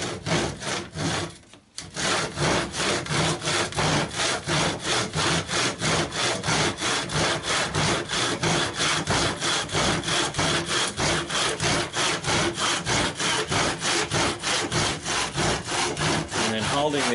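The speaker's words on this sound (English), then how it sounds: "Pushing gently, keeping the saw blade against the timber" Hand saw cutting through timber with steady, rhythmic back-and-forth strokes, loud and close, after a brief pause near the start; no talking.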